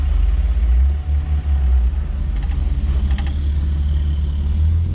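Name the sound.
stripped BMW Z-kart project car driving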